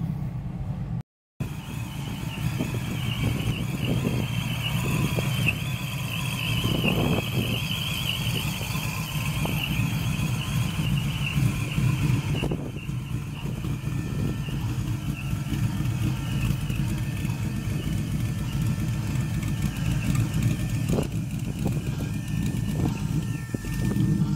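Steady engine drone from a supercharged 1995 Chevrolet Impala SS, a continuous low rumble running nearly unbroken for the whole stretch after a brief dropout near the start, with a faint higher whine layered above.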